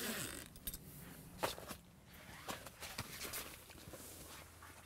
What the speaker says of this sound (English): Just undo the zips. These are heavy duty 10mm zips, best in the business, won't let you down.